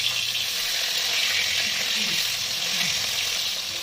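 Small poa bhola fish frying in hot oil, a steady, bright sizzle that holds close and even throughout, with faint low clinks of cooking beneath.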